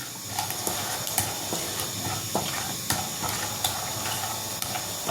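Mustard seeds and cumin spluttering in hot oil while a besan and drumstick curry is tempered: a steady close sizzle broken by scattered sharp pops and crackles, with no talk.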